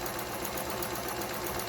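Toyota JB04 sewing machine stitching fabric, a fast, even mechanical chatter that runs without pause, close and fairly quiet, no one speaking.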